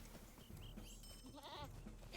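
A person mimics a goat's bleat with a short wavering voice, faint and close, over low background noise while playing an online game.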